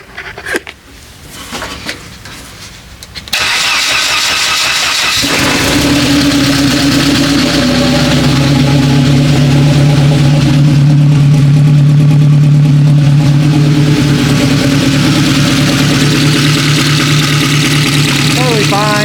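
A Saanda engine cold starts after a few seconds of quiet handling noise, catching abruptly and settling into a loud, steady idle heard close by, with a voice speaking briefly near the start.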